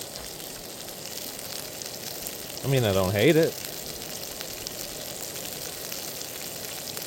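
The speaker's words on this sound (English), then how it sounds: "Let me take you on a journey to the frying pan." Food sizzles steadily in a hot pan, a close, even crackling hiss, while someone briefly speaks over it partway through.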